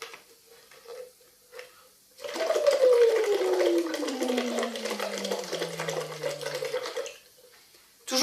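Bubbles blown through a straw into water during a vocal exercise make a gurgling bubbling, carrying a voiced tone that glides steadily downward for several seconds before stopping, with quieter bubbling bursts before it.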